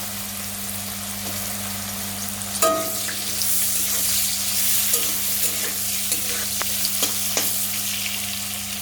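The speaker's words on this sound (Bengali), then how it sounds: "দুটো এলাচ গোলমরিচ লবঙ্গ এর মধ্যে এখন আমি দেব কেটে রাখা গাজর যেটা আমি আগেই কেটে রেখেছিলাম" Chopped carrots fry in a pan with cardamom, black pepper and cloves, giving a steady close sizzle, with a sharp clatter as they go in and light stirring scrapes after, with no talking.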